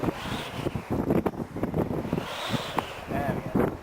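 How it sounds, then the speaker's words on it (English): Strong gusting wind buffets the microphone while a power kite is flown outdoors in high winds, a loud rough roar with fluctuating bursts throughout. "The wind's there. It's going like that."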